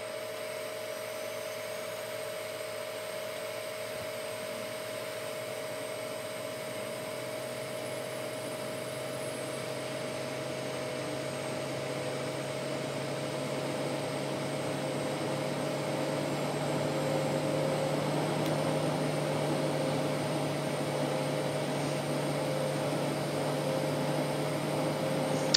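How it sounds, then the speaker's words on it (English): Jet engine of an Embraer E190 spooling up in a flight simulator game, a steady cockpit whine with sustained tonal hums that slowly grows louder over about twenty-five seconds, with no talking. "that engine 2 is spooling up."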